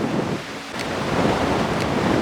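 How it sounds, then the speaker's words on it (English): Steady wind on Kauai buffets the microphone with a continuous low roar and rushing noise, loud and close, with no voices. "At least hiding from the wind because it's windy and it's cold."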